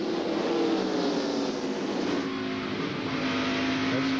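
NASCAR stock cars roar around the track at the 1997 Goody's Headache Powder 500, a loud, continuous engine drone with a pack passing and shifting in pitch.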